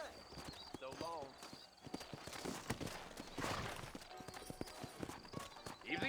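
Horse hooves clip-clopping in the Red Dead Redemption video game, a steady walking rhythm of close hoofbeats with a brief whinny, under a voice talking and light background game ambience.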